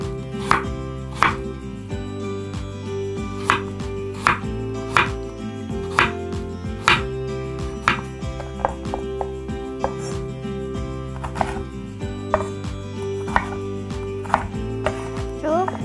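A knife slices vegetables thinly on a cutting board for nabak water kimchi, producing a steady series of sharp, close chopping knocks at an even, unhurried rhythm.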